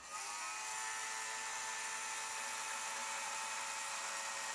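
A battery-powered fan motor on a Hall's carriage science cart whirs continuously with a high, steady electric whine, close and even from start to finish.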